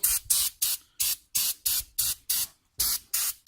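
Short bursts of brake cleaner spray hit the front brake parts of a BMW E60/E61 528i or 535i, about ten sharp hissing blasts in a fast, steady rhythm, loud and close.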